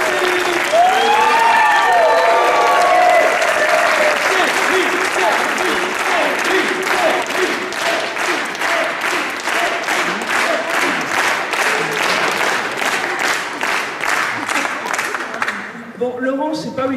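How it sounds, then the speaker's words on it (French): Sustained audience applause inside a church after a gospel concert in Magny-en-Vexin, loud and dense at first with some voices and cheers, continuing steadily before tapering at the very end. "Je crois qu'on peut l'applaudir encore"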